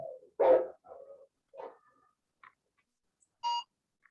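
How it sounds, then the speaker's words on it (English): A dog barks a few times at a distance, short separate yips with quiet gaps between them and a faint tone near the end. "I heard a dog there."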